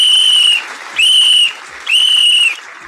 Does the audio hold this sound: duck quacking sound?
no